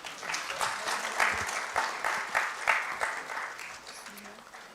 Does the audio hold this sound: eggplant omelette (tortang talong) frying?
no